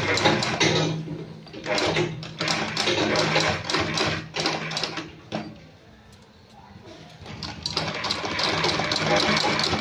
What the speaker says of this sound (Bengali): এই জায়গাটা মোটা হয়ে গেছে, ওই জন্য অসুবিধা হচ্ছে সেলাই করতে।